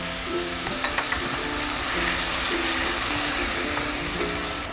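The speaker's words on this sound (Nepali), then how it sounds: "यसमा अझै थोरै पानी राखिदिउँ।" Water hits chicken curry frying with onion and garam masala in a pan, bringing a loud, continuous sizzle with bubbling and stirring close by.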